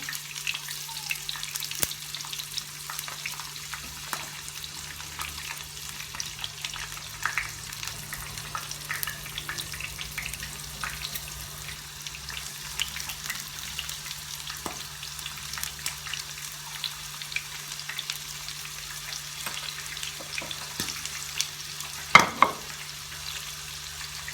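Köfte meatballs frying in a pan give a faint, steady sizzle that runs throughout, with scattered soft clicks and a louder clatter near the end as they are turned.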